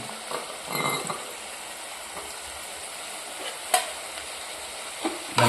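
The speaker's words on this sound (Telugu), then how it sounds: "అయితే బాగా మిక్స్ చేయాలన్నమాట కారం కారం మొత్తం వాటికి అంతా మొత్తం పట్టుకోవాలి" Tomato curry seasoned with chili powder and salt is stirred in a pan, soft sizzling frying under intermittent scraping strokes of a spoon, with a couple of sharper clinks near the end.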